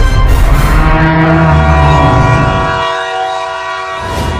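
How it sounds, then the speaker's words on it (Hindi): A train roars close by, its horn or whistle sounding over the heavy rumble of wheels on track, loud and sustained before easing slightly. "ट्रेन आ रही है। अभी अभी वो सीटी मारी।"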